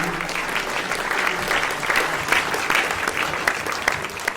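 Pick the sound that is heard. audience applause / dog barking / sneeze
audience applause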